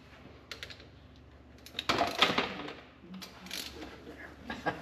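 Ratchet snugging down the drain plug on a Polaris during an oil change, heard as a few quick clicking pawl bursts, fairly close and soft, with small mechanical clatter and no talk.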